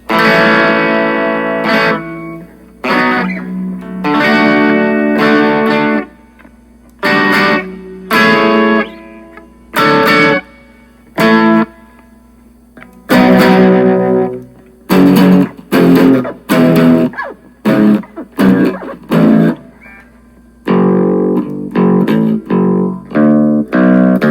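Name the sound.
guitar amplifier reverb effect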